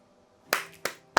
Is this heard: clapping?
yes